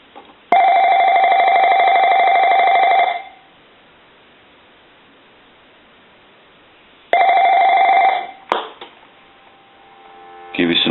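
An AT&T 5515 cordless phone's electronic ringer sounds in two bursts, a steady buzzing trill for a few seconds, a silent pause, then another shorter ring.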